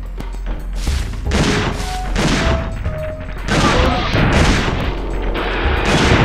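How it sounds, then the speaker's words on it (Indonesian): A shotgun fires in the PlayStation game Dino Crisis 2, sounding as a loud series of heavy, booming blasts about a second apart, each with a short rumbling tail. "3 hit pakai shotgun."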